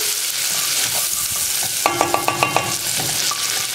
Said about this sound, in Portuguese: Eu só deixo mesmo refogar bem rápido